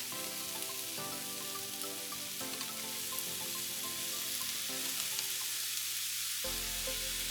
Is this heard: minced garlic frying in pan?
yes